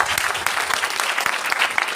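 Loud audience applause at a group gathering in Gurugram, a dense, energetic crowd of hands clapping with sharp individual claps standing out, steady over two seconds with no talking.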